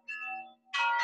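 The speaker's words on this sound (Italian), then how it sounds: "dobbiamo aspettare le campane?" Church bells ring outdoors in an Italian garden, a sustained tolling tone fading out before a brighter, louder bell stroke bursts in near the end, with no voices over them.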